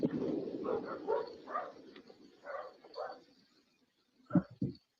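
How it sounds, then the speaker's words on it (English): Several dogs bark in bursts outdoors during a winter storm, mid-distance and fairly loud, with a pause and then two sharp closer barks at the end. "Dogs barking."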